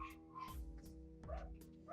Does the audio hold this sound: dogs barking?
yes